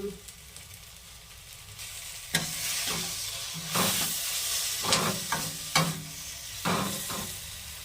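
Spices with turmeric powder and chopped green chili frying in a pan, a steady close sizzle broken by several louder bursts of stirring and scraping.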